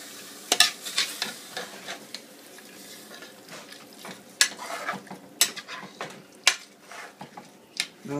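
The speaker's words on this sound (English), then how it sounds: "mom's mixing everything" Mutton biryani ingredients are mixed in an aluminum pot, with repeated close scrapes and clinks of a utensil against the metal over a soft sizzle.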